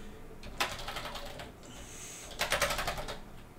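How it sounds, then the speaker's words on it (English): A finger run along a computer keyboard, heard as two quick rattling runs of soft clicking keys, close and fairly quiet. "run my finger along the keyboard"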